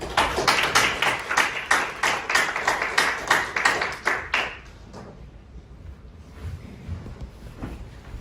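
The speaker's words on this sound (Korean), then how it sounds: "박수로 모시도록 하겠습니다" At an anniversary ceremony and press award event for a news outlet, the audience welcomes a speaker to the stage with fast, rhythmic clapping. The clapping is crisp and close for about four and a half seconds, then fades to a quiet room.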